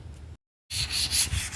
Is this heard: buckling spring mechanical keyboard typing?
no